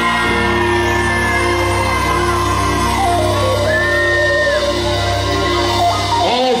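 Live crowd at a concert screaming, whooping and cheering loudly and continuously in a dense wall of sound, with sustained music tones running underneath.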